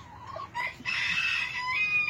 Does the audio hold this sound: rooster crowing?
yes